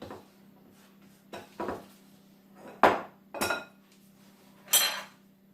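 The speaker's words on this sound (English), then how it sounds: "Scrape out your bowl." A spatula scrapes out a bowl of cupcake batter in a series of clinking, rasping strokes against the bowl, with short pauses in between over a steady low hum.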